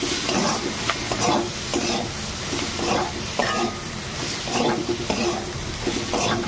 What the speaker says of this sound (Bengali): মশলার সঙ্গে মাছগুলোকে ভালো করে একটু ভেজে নেবো।